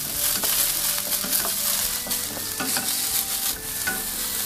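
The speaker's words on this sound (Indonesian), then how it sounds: "Lalu panaskan sedikit minyak dan tumis ini ya, bawang putih, bawang merah," Garlic, shallot and ginger sauté in a little hot oil, a steady close sizzling hiss with intermittent spatula stirs and scrapes against the pan, with no voices.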